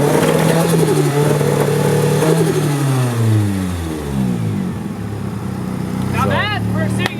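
A Nissan SR20 engine in an S13 revs loudly up and down close by, stuttering and breaking up on bad fuel as the pitch sweeps, with a voice talking over it.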